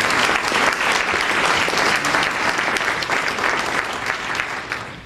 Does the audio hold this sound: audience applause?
yes